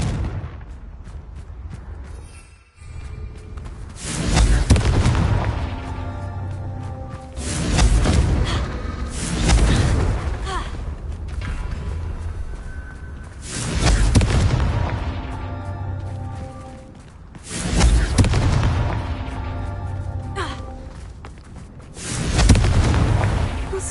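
Repeated Confringo fire spell explosions in Hogwarts Legacy, loud booming bursts landing every few seconds in a steady rhythm, each swelling and fading with crackling tails.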